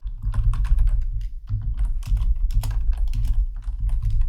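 JavaScript code being typed on a computer keyboard, a close, steady stream of clicking keystrokes in quick bursts with brief pauses between them.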